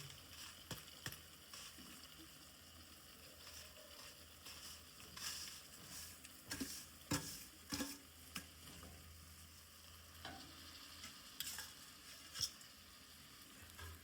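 Grated jaggery being stirred into potato halwa in a pan, a faint low sizzle with scattered scrapes and taps of the spoon, quiet throughout with no speech.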